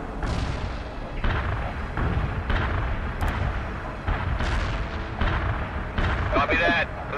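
Video game World in Conflict: artillery shells and an airstrike hit a target area, heavy rolling booms and blasts running continuously under a radio voice.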